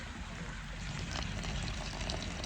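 Water poured from close by into potted plants with dry soil, a steady broadband rush and trickle that holds for the whole moment.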